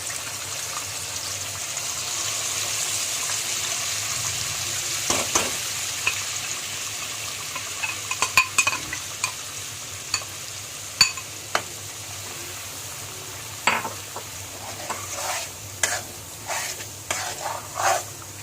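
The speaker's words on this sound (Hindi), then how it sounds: "अब ये गर्म हो जाएंगे तो मसाला देखिए हमारे फ्राई हो गए।" Whole spices and cloves frying in a hot pan over a low flame give a soft continuous sizzle, broken by a few sharper pops and stirring clinks that come closer together toward the end.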